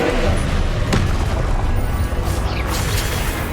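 A Confringo fire-blast spell cast in Hogwarts Legacy gives a booming, sustained burst of crackling energy, loud and close, with a sharp impact near the start and dense rumble throughout.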